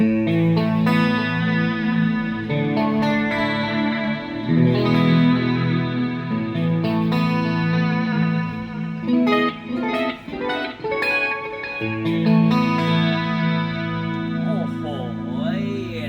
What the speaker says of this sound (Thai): ต่อมานะครับเป็นเสียงคีย์คอรัส